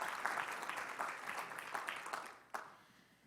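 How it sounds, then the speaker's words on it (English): Audience applause at a corporate diversity and inclusion keynote, a moderate round of clapping from a crowd that swells in waves and fades out near the end, heard from a distance. "let's give them all a round of applause"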